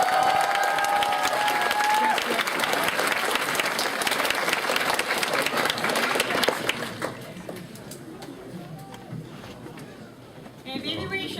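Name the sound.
audience applause at a convention panel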